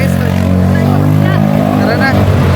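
A motorized tricycle engine drones loudly and steadily during a ride through San Juan City, a low rumbling hum with passing traffic around it, while people talk over it.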